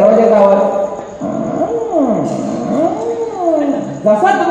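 A man imitates a creaking door swinging open, his voice drawing out a long squeaky groan that bends up and down in pitch in several swoops, loud and close.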